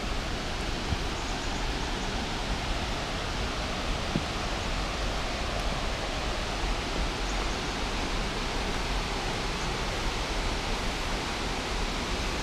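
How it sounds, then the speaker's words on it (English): Sri Dit waterfall in a forest at Phetchabun, Thailand, pours as a steady, dense roar of falling water, unbroken and even throughout with no voices. "There's this Sri Dit waterfall here in Phetchabun, Thailand."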